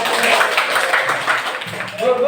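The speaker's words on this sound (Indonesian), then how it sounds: "Tepuk semangat." A group claps together in a rhythmic spirit-clap routine at a school gathering led by a teacher. The claps sound busy and fairly loud, mixed with voices throughout.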